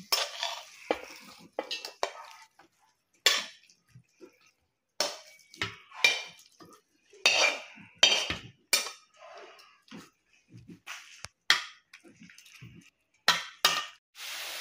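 Metal utensils scrape and clink against a pan as cooked bottle gourd greens are stirred and lifted off the stove, coming in sharp, separate bursts with short silences between them.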